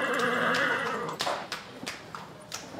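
A horse neighs in a long, loud whinny up close, followed by a few hoof clip-clops and light stable sounds.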